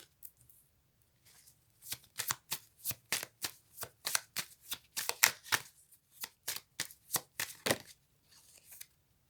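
A deck of cards being shuffled for a reading: after a few quiet handling sounds, a long run of crisp, rhythmic riffling bursts follows, close and clear, with no talk.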